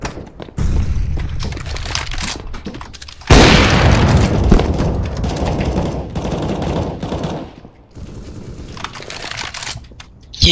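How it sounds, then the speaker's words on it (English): A grenade detonates in a competitive first-person shooter match: a sudden loud, close blast cuts through continuous game noise and scattered gunfire, then rumbles on for several seconds. "He hit me with the nade."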